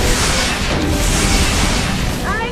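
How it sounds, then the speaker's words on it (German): Missile impact explosion in the mech combat game MechWarrior 4: Vengeance, heard as a sustained loud rumbling blast with broad crackling noise that fills the whole stretch and ends with a faint whine. "Einschlag! Netter Schuss"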